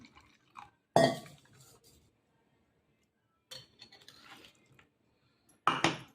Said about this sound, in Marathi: थोडं पाणी ओतते.